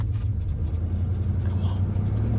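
A 2026 Ford F450 truck pulls away, its engine a close, deep, steady rumble lasting the whole brief moment.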